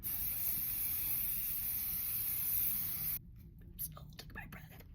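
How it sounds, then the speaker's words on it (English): Kryolan setting spray misted from a bottle onto the face, a loud, close, steady hiss lasting about three seconds before cutting off, followed by faint rustling. "Kryolan setting spray. It's so intense."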